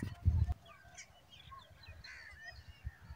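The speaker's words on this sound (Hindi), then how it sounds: "देहात में चिड़िया और कोयल के अलावा किसी की आवाज़ नहीं आ रही" Birds call around a quiet countryside village: scattered chirps and harsher crow-like caws at moderate distance, opening with a brief low thump, over a faint background rumble.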